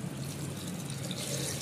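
Water is poured into a pot of pigeon pea (arhar) lentils seasoned with turmeric and salt, giving a steady, close splashing rush that continues evenly throughout without any voices.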